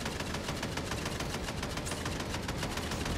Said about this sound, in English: It's a bunch of shots that I just missed